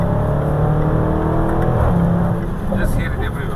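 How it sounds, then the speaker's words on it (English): A car's exhaust hums and revs in a brief, loud, steady engine drone heard from close by, easing slightly near the end. "what happens is that type of exhaust system, it's not very loud"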